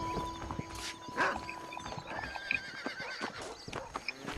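A horse in Red Dead Redemption gives a loud, close whinny, while hoofbeats clop and a dog barks in a busy outdoor game scene.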